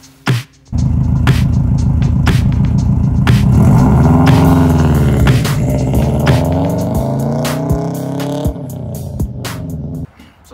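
A 2004 Subaru WRX running a Cobb Accessport tune on a test drive, heard from inside as a loud, steady engine drone that swells and shifts pitch as it pulls, with a few clicks and thumps over the top.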